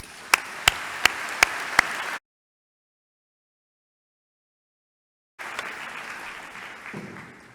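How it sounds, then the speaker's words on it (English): Graduates at a university engineering commencement ceremony applaud. A few sharp, separate claps ring out close by over crowd clapping, then a silent gap, then the crowd's steady applause returns. "please join me in giving them a small token of our appreciation by giving them a round of applause"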